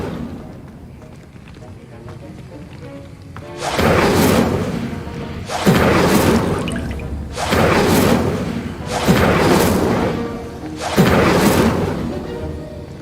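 The Incendio fire spell is cast in Hogwarts Legacy, setting off a series of loud, roaring bursts that whoosh and thud about every two seconds, with voices heard alongside.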